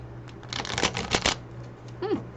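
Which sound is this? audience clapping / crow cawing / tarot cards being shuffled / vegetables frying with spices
tarot cards being shuffled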